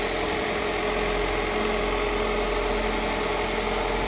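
A 1999 Honda CR-V fitted with a JDM B20B engine and automatic transmission idles steadily after the swap, a smooth, even hum up close with no voices over it.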